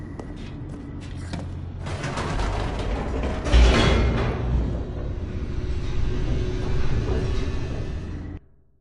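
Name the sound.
elevator descending, from video game The Stanley Parable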